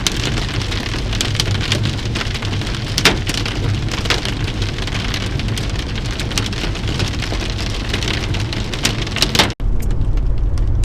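Dense, heavy, large hail pounds steadily on a car's roof and glass during a Nebraska storm, a continuous loud clatter with scattered harder impacts.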